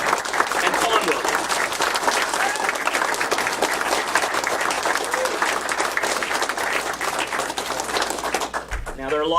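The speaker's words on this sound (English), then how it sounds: "So, a round of applause for the both of them." An audience at the World of Commodore 2019 event, marking the Toronto PET Users Group's 40th anniversary, applauds with dense, sustained clapping that fills the room at steady loudness before cutting off near the end.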